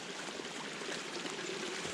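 Creek water flowing past an abandoned rural homesite in a Tennessee forest, a steady broadband rush and trickle, soft and continuous with no voices.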